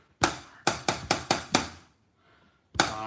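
Sharp tapped rhythm on a hard surface: a long tap followed by four quicker even taps, a pause, then another tap starting the pattern again, close and crisp with no talking.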